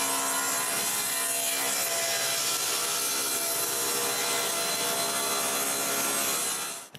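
A wooden board for folding shelves, filled with epoxy, is ripped to size by a saw that runs in a loud, continuous close rasp before cutting off abruptly at the end.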